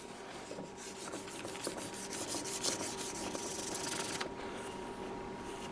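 Fine 3000 grit sandpaper rubbed by hand over a wooden build in steady back-and-forth strokes, a soft continuous close-up hiss that stops abruptly near the end.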